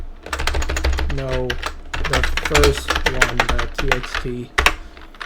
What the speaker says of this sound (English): let's go ahead and type in the new name of this file